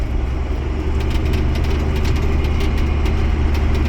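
A John Deere 300 tractor engine runs steadily and loudly up close, a continuous low rumble with a rough idling throb and no speech.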